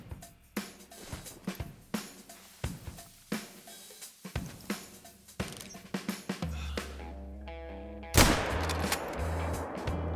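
A hunting rifle shot in theHunter: Call of the Wild at Layton Lakes fires once as a sudden loud broadband blast near the end, after a stretch of rhythmic footsteps and game sounds with a low droning tone.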